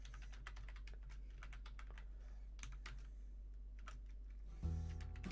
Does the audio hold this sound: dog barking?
no